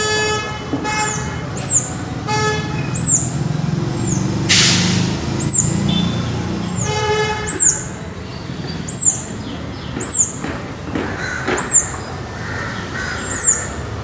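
A bird gives loud, sharp repeated calls, spaced every second or so, over a steady background of traffic noise and a passing horn.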